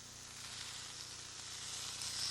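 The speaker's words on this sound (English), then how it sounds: "just lay those steak strips right there on the grill and hear that sizzle" Steak strips sizzle on a George Foreman Lean Mean Fat Reducing Grilling Machine electric grill, a steady close-up hiss and crackle that holds evenly throughout with no voices.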